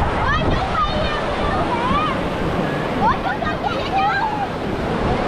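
High-tide sea waves surge up Vũng Tàu beach in a continuous loud wash of surf, close by, with voices of children and other people talking over it.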